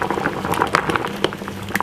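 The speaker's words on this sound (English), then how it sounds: "I'm gonna put it to boil for about 10 to 15 minutes." Potatoes boil in salted water in a pot, giving a close, steady bubbling with small pops and splashes and no speech.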